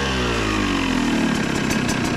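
KTM 200 EXC two-stroke dirt bike engine revving up close, a sharp crackling exhaust note rising in pitch over about two seconds with no voices.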